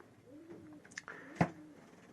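Racing pigeons in a loft give a few soft, low coos, faint and close, with a brief sharper sound near the end and quiet in between.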